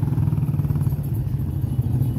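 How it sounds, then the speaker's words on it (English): Motorcycle engine on a road, a steady low rumbling drone with faint clatter, fairly close and even in loudness for a couple of seconds, no talking. "That's a motorcycle right there."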